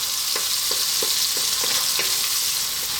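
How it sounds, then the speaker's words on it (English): Onions fry in spiced oil over high heat for a chickpea coconut curry, a loud, dense, continuous sizzle with faint regular clicks of stirring, close and without talk. "we'll now add the onion. And as you can hear, we're on a fairly high heat."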